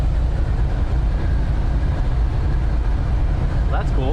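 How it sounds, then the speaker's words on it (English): Two trains roll along tracks close by in a steady, loud, low rumble, heard from a parked truck beside the line, with a faint squeal near the end. "2 trains next to each other in a good spot, right where we're right next to the tracks."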